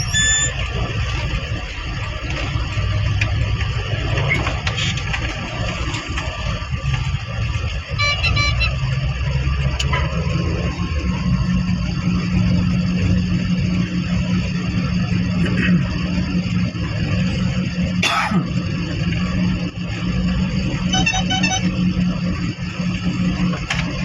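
Road traffic on Aguinaldo Highway rumbles on steadily, with engines droning close by, scattered short car horn toots, a few squeals, and a sharp knock partway through.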